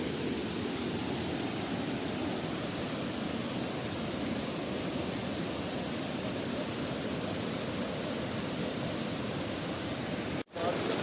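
Waterfall at Kalabokka plunging into a deep pool, a loud, steady broadband roar that runs unbroken and close, with one brief dropout near the end.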